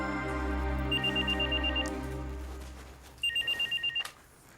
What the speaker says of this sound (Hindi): उर्वशी देखो तो बेटा किसका फोन है?